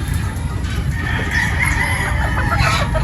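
Boston pullet chickens kept for a poultry fiesta, a close flock clucking and crowing continuously with overlapping calls and a steady farmyard hum beneath.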